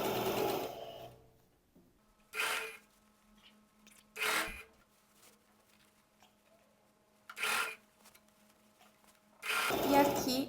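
A sewing machine stitches around the armhole of a tailored vest in several short, close bursts of rapid whirring, separated by quiet pauses with faint handling noise.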